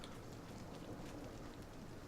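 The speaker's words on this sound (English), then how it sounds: "Fucking rain." Steady, faint rain hissing without a break in the video game Ylands, with soft dense patter and no voice over it.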